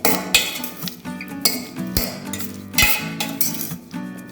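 A spoon clinks and scrapes against a bowl while stirring pineapple chaat, with repeated close metallic taps and knocks in an uneven rhythm throughout.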